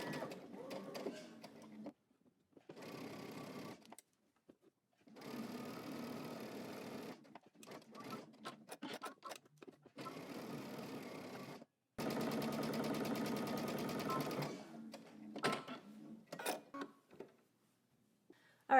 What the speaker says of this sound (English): Now I'm gonna move a 1/4 of an inch past my dot. And start again, back stitch.